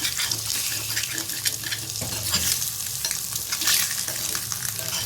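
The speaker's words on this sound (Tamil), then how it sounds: "கொஞ்சமாக அப்படியே போட்டு பரட்டி எடுத்து தரப்போகிறேன்" Egg frying in a hot pan as it is stirred and scraped for a simple lunch box dish, giving a steady close-up sizzle with continuous stirring scrapes and no voices.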